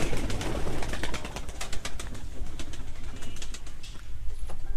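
Native pigeons kept in a pigeon loft coo over and over, close and fairly loud, with flutters and scratchy movement mixed into a busy, continuous chorus.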